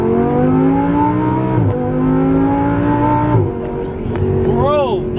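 An Audi R8 V10 fitted with an Armytrix titanium exhaust revs loudly and close by, its engine note climbing and dropping in repeated sustained pulls. Voices are heard near the end.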